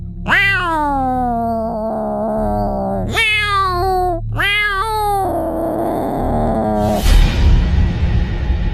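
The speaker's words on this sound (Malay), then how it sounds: "Kucing saya mengiau seolah-olah macam nak menerkam dan nak bergaduh dengan sesuatu" Three house cats by a bedroom window meow aggressively at something outside, with loud, drawn-out, close yowls rising and falling in repeated bursts, then a brief rough scuffling noise at the end.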